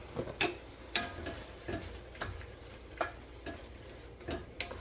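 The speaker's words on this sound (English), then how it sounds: "We're going to go ahead and add our sausage to the mix. Get that warmed up." Sausage warms in a pot of cooked-down onions and bell peppers for chili, with a quiet simmering crackle broken by regular spoon-stirring knocks roughly every second; nobody talks.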